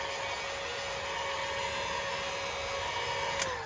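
A heat gun warms the adhesive on a footwell lighting strip for a Nissan GTR, giving a steady, close, breathy roar with a faint whine that runs unbroken and alone throughout.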